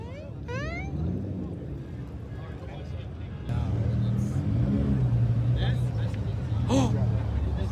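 A car with a Hellcat engine swap idles and then rises into a louder, sustained engine rumble on a busy strip, with people talking over it.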